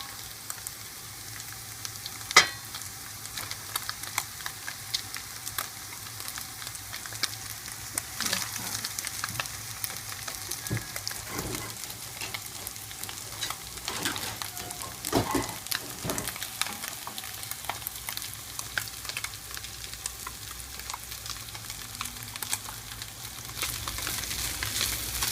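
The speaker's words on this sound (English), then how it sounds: "Now is the time for the rice to go in." Cooked rice and vegetables frying in a pan for vegetarian fried rice, a soft, steady sizzle with scattered crackles and occasional stirring scrapes, fairly quiet and close, with no talk.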